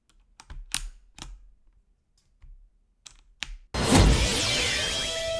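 Keys clack in scattered bursts on a mechanical keyboard fitted with O-rings and swapped keycaps, a few sharp close taps separated by pauses, then a sudden loud crash-like burst cuts in.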